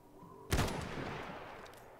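A single sharp gunshot cracks out in the video game Iron Harvest, followed by a fading, reverberant tail.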